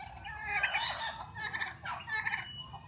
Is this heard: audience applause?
no